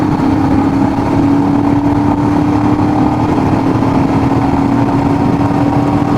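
Royal Enfield Himalayan BS6 motorcycle running at speed on an open stretch, a loud steady engine drone with a strong constant hum and wind rush, close and continuous, no talking.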